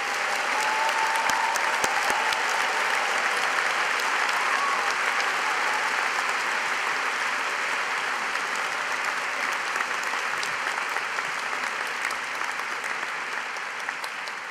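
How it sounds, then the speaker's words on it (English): Sustained audience applause at a postgraduate graduation ceremony for graduates, dense and steady throughout, fading slightly toward the end, with no talking over it. "Please join me in a round of applause for our graduates."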